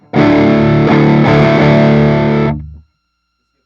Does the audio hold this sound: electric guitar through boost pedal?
yes